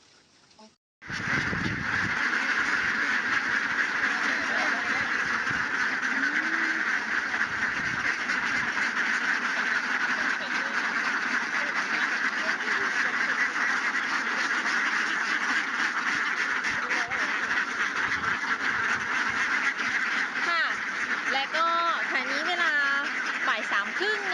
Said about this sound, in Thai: การ นำเป็ดออกไปเลี้ยงข้างนอกนะคะ